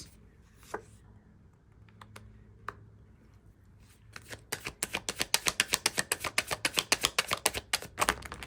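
Tarot cards being shuffled, a dense run of quick riffling flicks that starts softly and grows louder and faster, close and alone with no talk.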